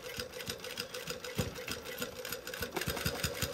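Sewing machine stitching through thick quilted layers and crossing bulky seams, a steady mechanical whir with irregular thumping needle strokes, close and continuous, with no talking.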